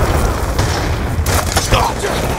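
A grenade goes off in the video game Black Ops 2, giving a loud boom amid crackling gunfire and game noise, with several sharp bursts packed close together.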